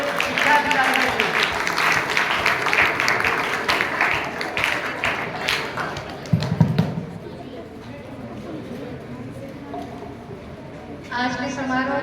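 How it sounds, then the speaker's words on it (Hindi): An audience at an award ceremony honouring a state teacher award winner in Haryana gives a loud burst of applause that fades after several seconds. A thud and brief talk follow, then clapping picks up again near the end. "एक बार जोरदार तालियां खंड शिक्षा अधिकारी के लिए।"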